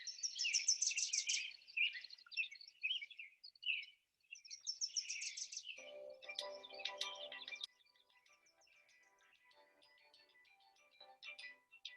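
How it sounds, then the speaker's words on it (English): Bright chirping and trilling bird song fills a quiet national park valley in repeated quick bursts, several birds calling near and farther off, with softer scattered calls trailing away toward the end. "You've got valleys filled with bird song."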